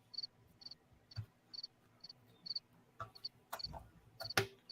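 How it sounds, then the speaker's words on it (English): Crickets chirp in short, regular high bursts, faint and steady, with a few soft knocks and clicks in the background. "Bunch of crickets."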